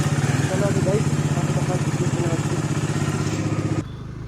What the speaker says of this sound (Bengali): এই যে বাইক কোল্ড স্টার্ট করলাম